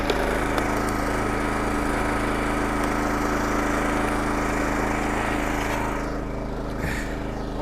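A log splitter engine runs at a steady, loud drone while firewood is split in a wood yard, easing slightly near the end, with no voices.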